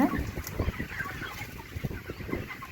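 Chickens in a broiler poultry farm with automatic feeders cluck in scattered short calls at moderate distance over a steady hum of the shed.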